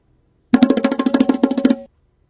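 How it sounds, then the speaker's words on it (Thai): A quick roll of about a dozen rapid, evenly spaced drum hits lasts just over a second, loud and close, then stops cleanly. "เสียงปริศนาที่ 4 เสียงกลอง"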